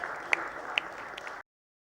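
Light applause for award-winning nurses at a nursing awards ceremony, with a few sharp claps standing out from a soft, steady patter before it cuts off abruptly.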